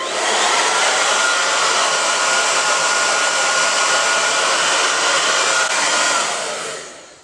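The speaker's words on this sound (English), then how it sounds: "you need to just blow dry the roots of your hair" Hair dryer on high setting blow-drying the roots of curly hair, a loud, steady broadband whoosh held continuously for about seven seconds before tapering off at the end, with no talking.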